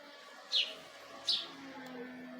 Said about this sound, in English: Check out the sparrow.